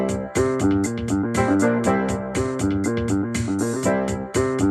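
Technics AX7 keyboard playback: keyboard chords, bass line and drums play together in a steady, loud groove with regular beats and repeating chord stabs, no voices.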